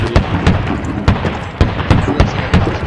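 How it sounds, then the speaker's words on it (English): Machine gun fire from an MG in the military shooter game Squad, during a castle assault, rattles in rapid, repeating loud bursts with no talking over it. "That's an MG."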